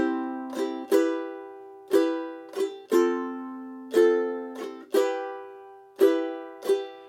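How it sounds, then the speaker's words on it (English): Ukulele strummed in a slow, loose rhythm, downstrokes alternating with softer, dragging thumb upstrokes, each chord ringing out clearly and alone, no voices. "I also find myself sometimes doing the up with my thumb, and it's a little more of a lazy sound."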